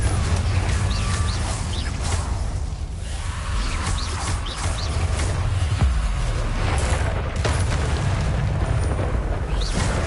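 A fiery Confringo spell blast erupts in Hogwarts Legacy, a loud rumbling explosive roar that swells and sustains with crackling bursts and faint bird-like chirps over a continuous heavy low boom.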